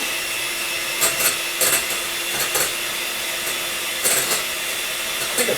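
Eggs are whisked hard toward a stiff stage, making a steady whirring drone with periodic short rattling bursts at a roughly regular pace, close and fairly loud, with no talking.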